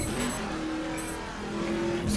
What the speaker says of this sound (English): Has a very interesting exhaust sound on that car.